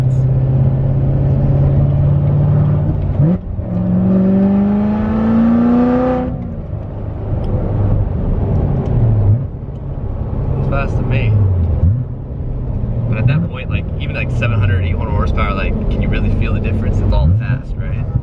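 A Corvette Z06 engine pulls hard under partial throttle from inside the car, loud rising whines that climb and drop through several gear changes, with people talking over the roar.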